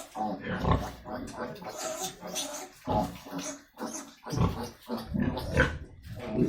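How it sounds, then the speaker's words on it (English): Yorkshire piglets on a pig farm in Morigaon, Assam, grunt and squeal in short, irregular bursts close by, with a person talking over the animal noises. "These are the piglets available in my farm."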